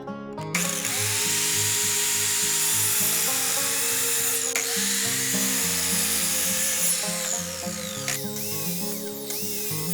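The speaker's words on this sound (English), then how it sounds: "I use the miter saw and set its cutting depth in order to roughly cut the half-lap joints." Miter saw with its cutting depth set, roughly cutting half-lap joints in wood, a loud continuous whining cut running the whole time with brief dips, music-like tonal bands underneath.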